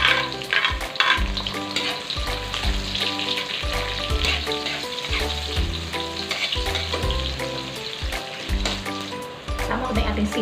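Ginger, onion and garlic sautéing in a hot pan for jackfruit cooked in coconut milk, a loud, steady sizzle and crackle with occasional stirring scrapes, no voices.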